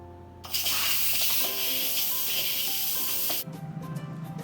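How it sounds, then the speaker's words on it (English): An Instant Pot vent is opened after steaming chicken, releasing a loud, continuous hiss of escaping steam for about three seconds before it cuts off abruptly, leaving a quieter sputtering rush behind. "Now that it's done, I'm just gonna open the vent."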